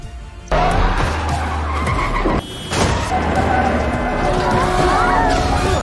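A runaway bus with failed brakes skids loudly in a film scene, a dense roaring screech of tires and engine that continues almost without a break, with a short drop before it surges again.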